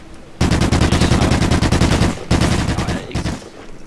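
Automatic weapon fire from Call of Duty Ghosts multiplayer rattles in loud, rapid bursts, a long stream, a short break, then another burst, close and dominant.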